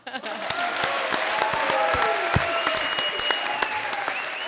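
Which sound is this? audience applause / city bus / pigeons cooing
audience applause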